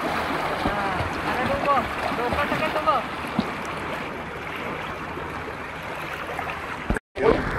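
A river's water flows in a steady, hissing wash close by outdoors, with faint talk mixed in and a brief cut-out near the end.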